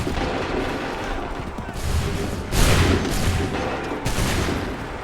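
Musket volleys in Assassin's Creed 3, a dense, roaring crackle of massed gunfire with heavier booming surges around the middle and near the end, set against constant battlefield noise.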